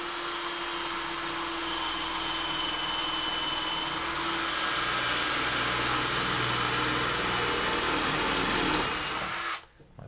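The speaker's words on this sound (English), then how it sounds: "the bit will bite right into the tape and then eventually cut through this ceramic tile" A power drill whines steadily at close range as the bit grinds through taped ceramic tile for several seconds, then abruptly stops.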